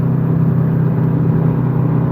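A truck with a Detroit diesel engine idles close by, giving a loud, steady low drone with an even throbbing hum and no change in pace.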